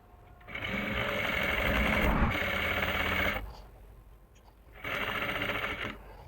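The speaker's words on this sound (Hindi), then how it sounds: "यहाँ से और 16 इंच तक सिलाई लगाऊंगी मैं पहले" Sewing machine stitching a seam on plazo pant fabric, running in a steady whirring burst for about three seconds, pausing briefly, then starting again, close up with no talk.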